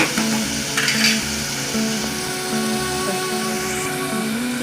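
Chopped onions and green chillies frying in a pan while being stirred, giving a steady, close sizzle with occasional soft scraping of the spoon.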